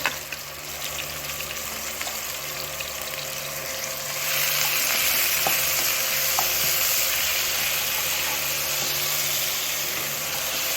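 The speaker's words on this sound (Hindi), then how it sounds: "हल्का सा बस प्याज को ब्राउन करेंगे।" Onions frying in a pan hiss with a steady, loud sizzle that swells partway through as they are stirred, with faint scrapes against the pan and no talk.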